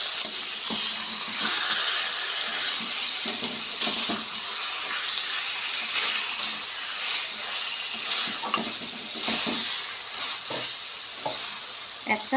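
Chicken pieces sizzle and fry in a pan with already fried onions, giving a steady, loud hiss throughout with a few faint stirring clicks and no voices.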